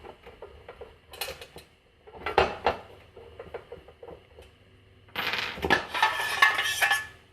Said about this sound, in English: run those down quite far, and you can just tap those out